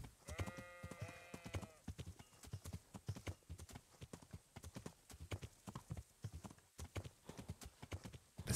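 Horse hooves clip-clop at a steady rhythm while riding across open fields in the medieval role-playing game Kingdom Come: Deliverance, close and continuous, with a brief sheep bleat near the start.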